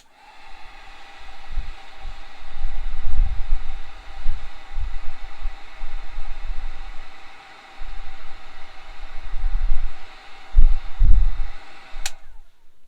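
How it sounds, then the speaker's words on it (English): A hair dryer blows with a steady, even whoosh and a low hum, running continuously before clicking off near the end. "we're just gonna dry it real quick with the blow dryer"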